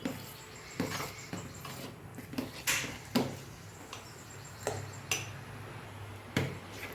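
Sugar, four spoonfuls, being stirred into a sabudana papdi mixture, giving intermittent scraping and light clinks of a spoon against a bowl at an irregular rhythm, close and fairly quiet with no talking.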